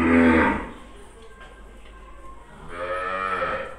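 Rathi and Sahiwal cows at a dairy farm in Hyderabad give two loud, close moos: a strong one at the start and a longer drawn-out one after a quiet pause.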